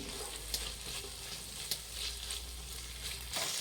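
Carrots and beans hiss and sizzle steadily as they are stir-fried in a hot pan for vegetable egg rice, with a few soft scrapes of stirring and no talk.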